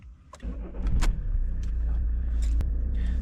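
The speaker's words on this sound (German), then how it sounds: "jetzt startet das Auto, Kupplung natürlich nicht vergessen" A car engine cranks and catches after a few key and clutch clicks, then settles into a steady close idle rumble that holds to the end.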